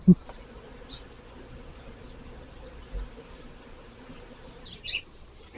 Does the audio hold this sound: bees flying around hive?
yes